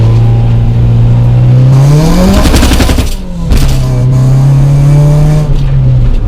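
A JDM Honda Integra Type R DC2 with 2-step launch control revs hard on a country B road. The loud engine note climbs, breaks into a burst of crackling pops at the shift, then pulls steadily again, close and dominant.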